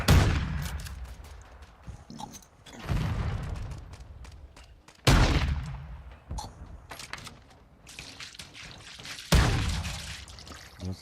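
Call of Duty air support strike: heavy bursts of gunfire and booming impacts arrive in several loud waves, each fading into rumbling debris and trickling noise, with no talk over them.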